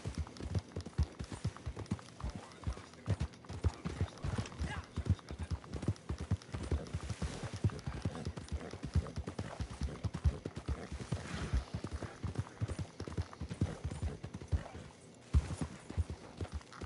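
Horse hooves clip-clop steadily in Red Dead Redemption 2, a dense, continuous run of close, rhythmic thuds that carries on for the whole stretch with no voices.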